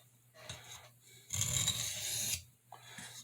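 A Boker C75 red jig bone pen knife blade is drawn across a sharpening stone in a burr-method stroke, giving a soft scraping rasp, with one longer, louder pull in the middle between quieter strokes, close up.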